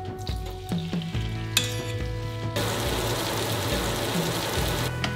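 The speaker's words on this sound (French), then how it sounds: "Maintenant, il me reste plus qu'à faire cuire mes crevettes." Shrimp frying in a hot pan for a poke bowl, a steady loud sizzle with occasional clinks and stirring of the pan, continuing without talk.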